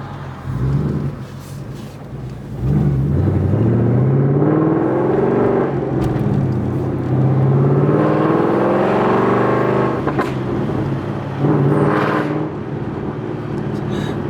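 An 800hp Whipple supercharged Ford Mustang engine revs under throttle from inside the car, a loud sustained roar rising and falling in pitch through repeated pulls.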